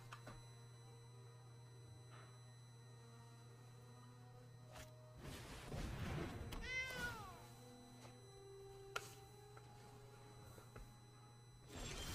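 In the MTG Arena game, a cat meows in a short rising-falling cry during a card draw, set against a quiet steady hum with a soft whoosh before it.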